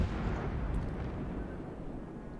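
Naval gunfire in World of Warships as Graf Spee shells head toward the cruiser Cleveland, a dense, continuous low rumble of booming blasts running steadily throughout without clear gaps.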